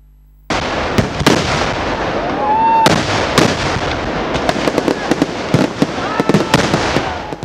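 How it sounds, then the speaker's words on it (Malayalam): Sample fireworks display at night for the Makara Sankrama Vela festival of Kuttiyankavu Bhagavathi temple: a rapid barrage of loud, sharp booms and crackling bursts with a rising whistle, continuous and dense throughout. "കുറ്റിയങ്കാവ് ഭഗവതി ക്ഷേത്രത്തിലെ മകരസംക്രമ വേലയോടനുബന്ധിച്ച് നടന്ന സാമ്പിൾ വെടിക്കെട്ട്"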